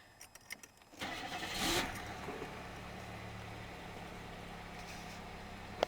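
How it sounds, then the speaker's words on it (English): A 1995 Chevrolet Monte Carlo with a lit check engine light cranks and fires up after a quiet moment of small clicks, then settles into a steady idle that runs on at moderate volume. "I'll go ahead and I'll start it up."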